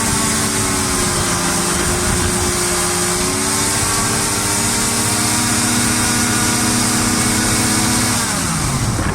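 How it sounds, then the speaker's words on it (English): A racing craft's engine and variable pitch fan hub roar at full throttle in a test run, a loud steady droning whine whose pitch holds, shifts slightly, then drops near the end as the power comes off. "This is a recording of the V-Hub's first full throttle test run."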